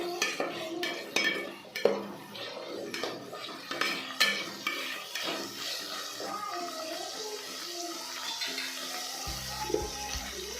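Chopped onion frying and being stirred in a pan makes a steady sizzling hiss with scattered scraping clinks, and music enters at the very end.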